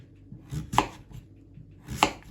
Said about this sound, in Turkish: Bu şekilde doğrayacağız.